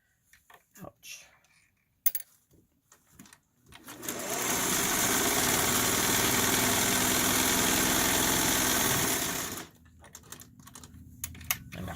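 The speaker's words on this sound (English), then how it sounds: "My machine doesn't always like to stop when I tell it to stop" A home sewing machine runs a zigzag seam, first with scattered clicks and handling taps, then a loud steady whirring burst of about six seconds, followed by more clicks and rustling.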